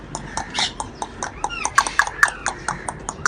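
A pet parrot imitates a horse's hoof clip-clop, clicking out a steady rapid series of sharp knocks with a few whistly squeaks mixed in, close up in a bird enclosure under faint background sound.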